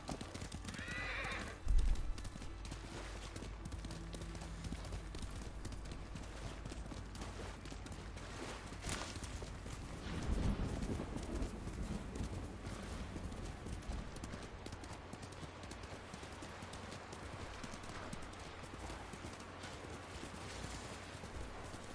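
Horse hooves clop along at a walking pace while a horse whinnies loudly near the start in the video game Ghost of Tsushima, with occasional rustling and a thump partway through.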